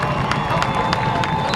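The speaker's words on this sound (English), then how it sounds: "Getting a cheer from the Titan crowd." Crowd at a high school football game between Nashua North and Manchester Central cheering and shouting, a loud, dense roar with sharp claps and whoops.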